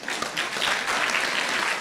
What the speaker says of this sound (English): so we can cut the applause for now until we finish the conversation